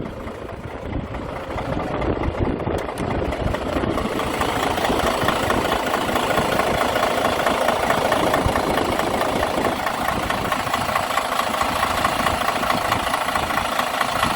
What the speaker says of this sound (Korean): 엔진 한번 봐볼게요